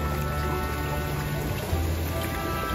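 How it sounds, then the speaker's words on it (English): Steady, broadband rushing of a waterfall heard from a distance at a resort lodge, a continuous even wash with no clear talk over it. "Just hear the sound of the waterfall just in the distance"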